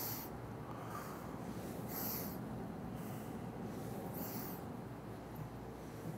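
Deep breaths during a warm-up exercise come as two soft, airy bursts a couple of seconds apart over a quiet room hum.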